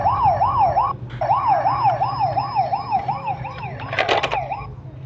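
A toy police car's electronic siren wails loud and close in a repeating up-and-down pattern, cutting out briefly once before resuming, then breaking into a harsher burst near the end.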